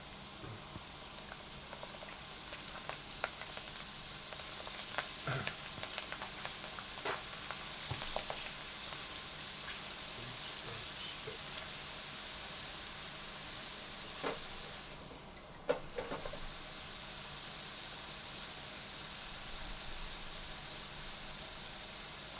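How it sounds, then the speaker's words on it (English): Potato peelings deep frying in hot oil as a soup garnish, a steady dense sizzle and crackle running throughout with occasional louder pops, close and continuous with no talking. "we're going to deep fry our potato peelings"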